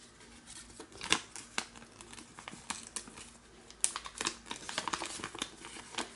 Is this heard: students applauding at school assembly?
no